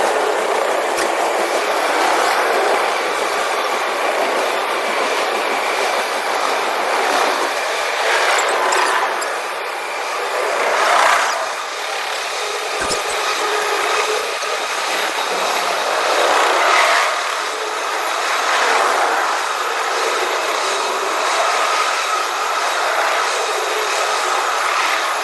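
Freight train led by an ET44 locomotive, followed by CM44 and ES44 units, rolling past at Folkston, Georgia; a long, steady rumble of cars with clattering wheels and occasional swells, heard close and loud without talk.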